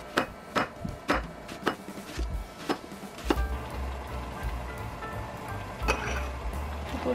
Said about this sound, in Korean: 양파도 썰으려고요